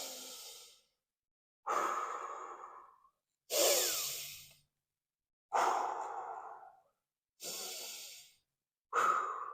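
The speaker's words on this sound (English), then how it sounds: "do some deep breathing" Six slow, deep breaths, each a long, loud, airy exhale followed by a silent pause, come in an even rhythm close to the microphone.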